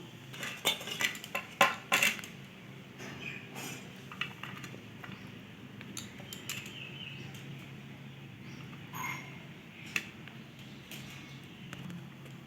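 Metal serving utensils scrape and clink against a pot while egg and potato biryani is served, with a cluster of sharp clatters early, then scattered lighter taps and scrapes, fairly faint.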